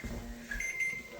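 A kitchen timer on a pressure-canning setup beeps in a short quiet series of high electronic tones over a faint low hum, heard close but soft, with no voices.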